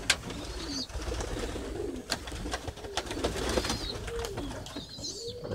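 Roller pigeons coo softly nearby while water splashes and wings flutter in short bursts, a busy close-up scene of birds bathing.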